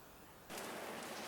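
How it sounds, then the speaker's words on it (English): Rain begins falling in Fuerteventura in January, a steady, close hiss that starts abruptly and then holds evenly with no voices. "Yes, it's raining."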